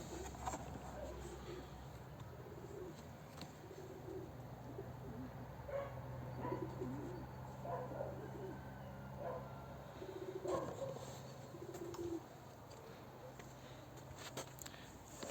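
Soft pigeon coos repeat in the background over a steady low rumble, with occasional faint voices and a dog barking now and then.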